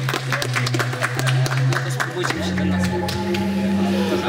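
An audience claps during a live game presentation, a scattered burst of claps with a low hum and voices running beneath.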